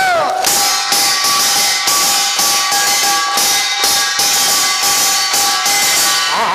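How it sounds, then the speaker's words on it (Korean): Attendees at a laughter-yoga health lecture during the Jangheung integrated medicine expo clap along in a steady rhythm, with sharp, evenly spaced hand claps over a sustained musical tone. "자, 박수를 같이 한번 쳐주세요."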